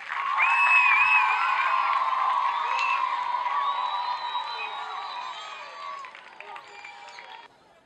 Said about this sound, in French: Acclamez une fois de plus.